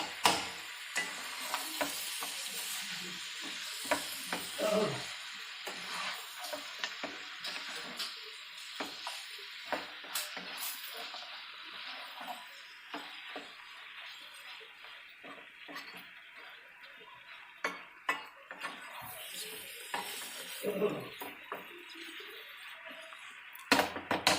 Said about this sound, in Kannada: ಸ್ವಲ್ಪ ಉಪ್ಪು ಮತ್ತು ಅರಿಶಿನ ಎರಡನ್ನು ಸೇರಿಸ್ಬಿಟ್ಟು ನಾವು ಫ್ರೈ ಮಾಡ್ಕೊಳ್ಬೇಕು